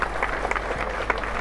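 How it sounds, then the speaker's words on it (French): A crowd claps and cheers at a May Day workers' rally in Brussels supporting striking Delhaize employees. The applause is steady and dense throughout, with scattered sharper claps and no clear voices over it. "on peut s'applaudir"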